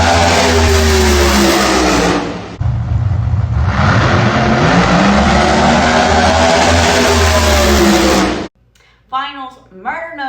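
No Prep Kings drag race cars, including Murder Nova, scream down the strip at Las Vegas with loud, sustained engine howls that rise in pitch and then cut off abruptly, followed by a voice speaking.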